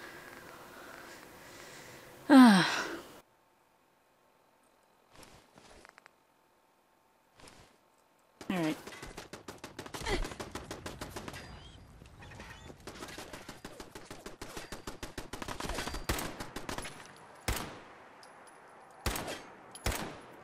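Gunfire from a firefight in the video game Fallout 4: after a loud burst and a quiet gap, rapid bursts of shots crackle steadily at close range with a few sharper blasts, no talk over them.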